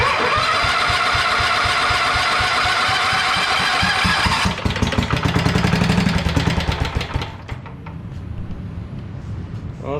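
A Sears Suburban ST16 lawn tractor engine runs on starting fluid with a loud, steady mechanical roar, then its pitch shifts and it sputters unevenly before dropping to a weaker, quieter running sound.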